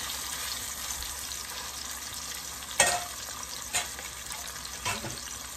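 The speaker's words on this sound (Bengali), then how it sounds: "এখন মাছ ভাজতে চলে আসলাম।" Salt-and-turmeric-rubbed fish fry in a hot pan, a steady hiss of frying throughout with a few brief louder crackles and pops standing out, and no voices.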